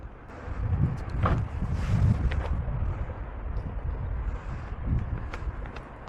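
Wind blows across a hilltop with a large cross in North Macedonia. Gusty, low rumbling buffets the microphone in uneven surges, with no speech.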